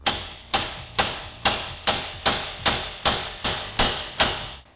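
Hammer blows strike the spindle of a €300 Peugeot 206 being built into a rally-raid car, eleven loud, evenly spaced metallic hits each ringing briefly before the next, close up with no talking.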